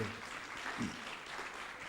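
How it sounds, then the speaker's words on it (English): Audience applause at a national health dialogue event in Nigeria, a steady wash of clapping that carries evenly through the whole two seconds at moderate loudness, with no voices over it. "Please clap for Ronsi Chidebe."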